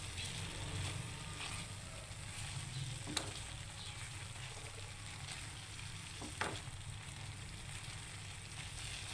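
Eggs for anday ka halwa frying in a pan, a steady soft sizzle running throughout with two brief stirring clinks near the middle, no talking.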